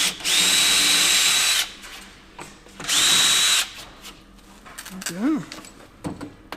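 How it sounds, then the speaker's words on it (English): Power drill with a 1/4 inch bit boring through Wonder Board backer board, two loud sustained whining runs of about 1.5 seconds each, followed by softer handling noises and a brief voice. "Got a 1/4 inch bit just so it'll float through the Wonder Board rather than grab it and lift up."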